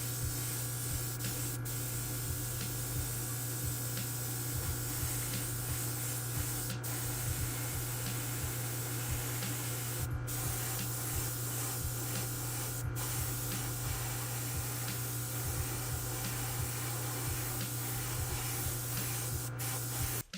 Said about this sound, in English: I'll mask coat the hood.